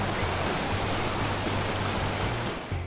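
Rushing water roars from Brown Falls, a very tall waterfall, as a dense, steady, broadband wash with no pauses and no voices.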